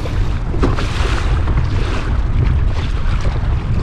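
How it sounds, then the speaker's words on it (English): Strong wind roars across the microphone while paddling a kayak against it on open water, a loud, continuous buffeting rumble with faint splashes underneath. "we're going against the wind here"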